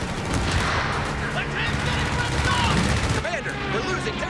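An aircraft strafing run in Company of Heroes 3 fills the air with dense, continuous gunfire and explosive rattling, loud and sustained throughout, easing slightly near the end.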